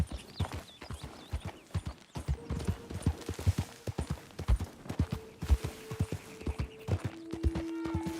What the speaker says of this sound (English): A gente tá tendo que andar bastante de cavalo